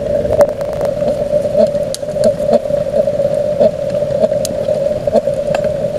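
A Kelly Kettle Trekker stainless steel camp kettle roars over its fire while the water heats: a steady, whistling drone with a fluttering, pulsing texture, close and fairly loud throughout, with faint crackles and knocks under it.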